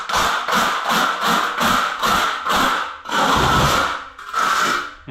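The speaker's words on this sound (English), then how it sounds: "I give it a good scrape just to get the loose parts off" A hand scraper rasps repeatedly across a floor screed, knocking loose bits off before waterproofing, in a steady rhythm of about eight close, loud strokes with a longer pass near the end.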